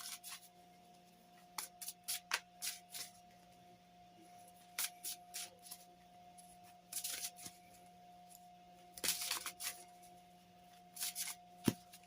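Unfolding Path Tarot cards are handled, shuffled and drawn in a quiet room: short bursts of papery riffling and sliding come in irregular clusters over a faint steady hum.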